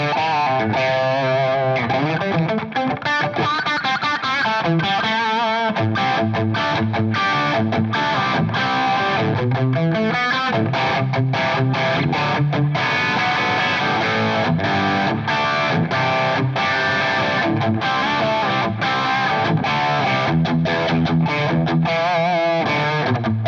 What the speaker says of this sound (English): That's actually enough distortion for me to be content with.